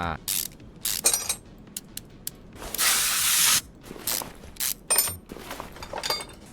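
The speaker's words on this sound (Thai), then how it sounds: "ผมต้องมี สเปรย์อ่ะ" A spray can in a car repair video game hisses in one sustained burst of about a second, set among short mechanical clicks, ratcheting taps and brief bursts of noise.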